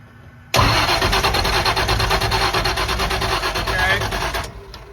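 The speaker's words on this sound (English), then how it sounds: "Crank it, John." A car engine cranks on a cold start in a loud, steady rhythmic churn for about four seconds without catching, then cuts off.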